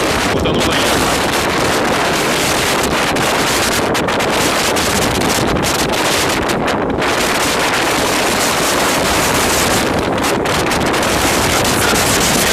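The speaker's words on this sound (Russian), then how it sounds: "Ветер порывами 45 метров в секунду." Violent gusting wind in Novorossiysk during a storm with rain, gusts around 45 m/s, roars continuously and loudly into the microphone, buffeting it with heavy rumbling noise that barely lets up throughout.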